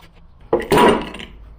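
A pulley puller pops a pulley off an LS engine in a Colorado swap, a sharp metallic crack followed by a short scraping clatter, close and brief.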